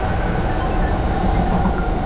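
A train rumbles at a railway station in Mumbai, a dense, steady low roar of carriages and wheels close by, without any speech.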